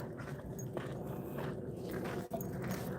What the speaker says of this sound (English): looks like we have some little cutie dogs over here.